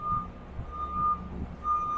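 Repeated high electronic beeps from a reversing vehicle inside an IKEA store, evenly spaced, over a low engine rumble nearby.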